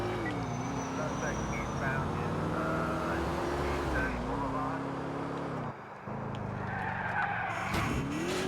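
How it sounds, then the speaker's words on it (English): A car in GTA IV whips through a handbrake turn, its tires squealing and skidding for several seconds over the engine roar, with a brief drop partway through and some voices in the mix. "That is a handbrake turn, if ever I've seen one."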